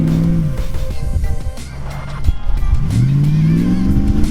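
A lifted truck stuck in deep snow revs hard and steadily, its engine note rising and falling as it rocks back and forth, loud and close throughout with no talking.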